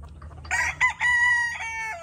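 A white Kelso gamefowl rooster crows once in a breeding pen, a single loud, close cock-a-doodle-doo with a rising start and a long held middle, heard alone over a low background rumble.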